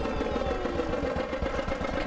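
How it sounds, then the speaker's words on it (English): A cartoon tractor engine in a children's video game chugs and idles steadily, a low rumbling putter with light clatter, moderately loud and without voices. "Take three ducks on a ride on a tractor."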